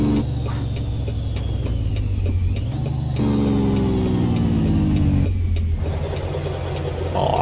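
A 525 hp truck in American Truck Simulator pulling away, its engine a loud, steady low rumble that climbs in pitch through the gears.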